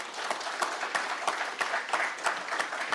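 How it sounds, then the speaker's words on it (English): An audience at an auditing workshop applauds steadily, a dense, loud wash of many clapping hands filling the room without pause, no speech over it. "Let's give a thunderous round of applause."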